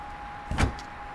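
A 2013 Chevrolet Corvette convertible's top folding down, a brief close mechanical thunk and whir lasting a fraction of a second against a quiet background.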